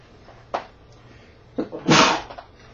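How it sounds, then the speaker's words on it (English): A single sharp sneeze bursts out loud and close, preceded by a couple of short breathy catches, against a quiet background. "I gotta sneeze here"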